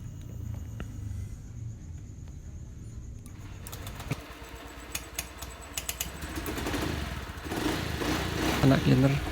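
A fuel-injected motorcycle engine with a freshly cleaned throttle body is started after a quiet stretch, then runs unevenly and builds toward the end, with people talking nearby.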